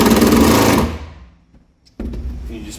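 A power drill drives screws through a shower pan flange into wall studs, one loud close burst of motor whir that stops, a second of near silence, then the whir starts again.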